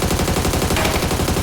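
A loud, continuous automatic rifle burst in PUBG: Battlegrounds, rapid shots packed tightly at an even fast rhythm, close and dominant, with no voices over it.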